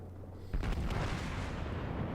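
Naval gunfire in World of Warships, a German battleship Tirpitz firing: one heavy booming salvo breaks out about half a second in and rolls on in a long dense rumble with no talk.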